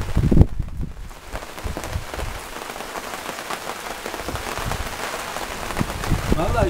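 Steady rain falling on a green countryside estate with trees, a dense continuous patter of drops on surfaces, close and fairly loud, with voices briefly audible at the start.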